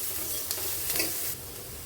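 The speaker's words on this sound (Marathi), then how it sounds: "आता कांदे परतून घेते" Onions, garlic, curry leaves and peanuts sauté in a hot pan for Marathi dal chakli, a steady close sizzle with light stirring scrapes.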